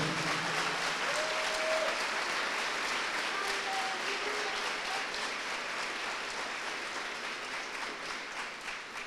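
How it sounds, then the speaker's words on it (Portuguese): Sustained applause from a church congregation during a sermon on Jesus on the cross, a broad wash of many hands clapping that stays steady, then slowly thins and fades, with a few faint voices among it. "dê o seu melhor aplauso a Jesus"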